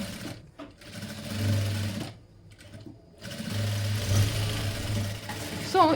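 A sewing machine runs steadily while stitching the side seam of a blouse, with a close mechanical whir that pauses briefly twice and then resumes.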